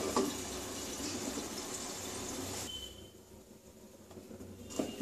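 Water poured onto vegetables in a pan, a steady rushing splash for nearly three seconds that then drops to a quieter simmering hiss, close by.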